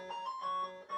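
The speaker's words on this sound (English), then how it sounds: "That is my doorbell." A home doorbell chimes briefly, a sustained electronic tone with a second note near the end, faint and muffled from elsewhere in the house.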